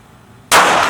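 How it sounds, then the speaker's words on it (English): A single sharp, loud shot from a Ruger LCP pistol firing Winchester PDX-1 .380 Auto ammunition through two layers of denim into gel jugs, bursting in abruptly after near silence with a sustained blast tail. "we're going to be shooting through 2 layers of denim, and got a couple jugs set up behind it"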